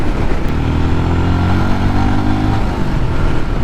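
A 2023 Royal Enfield Scram 411 motorcycle cruises in fifth gear at low RPM, its single-cylinder engine producing a loud, steady low throb mixed with wind rush, recorded close up while riding.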